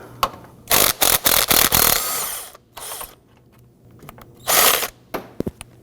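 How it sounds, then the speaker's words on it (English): A power tool or ratcheting wrench works a 10mm nut loose from the starter on a 2008-2011 Ford Focus 2.0L, in loud, close bursts of buzzing ratchet action, several quick pulses and then a longer run with pauses between. "I'm going to come on in here and loosen and remove this nut."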